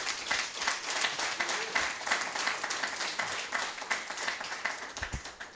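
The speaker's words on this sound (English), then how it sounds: "Let's give him a big round of applause." An audience at a strategic thinking workshop and expo gives a steady round of applause. It sounds fairly faint and distant, with a regular clapping pulse and no speech over it.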